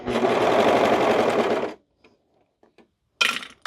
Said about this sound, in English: when you're using a serger, it is cutting the material as you sew